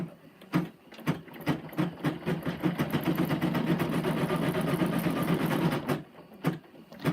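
An embroidery machine stitches a design onto the bottom of a fabric basket, a fast, dense mechanical chatter that runs steadily for several seconds, bracketed by sharp ticks as the needle starts and stops, close and without talk.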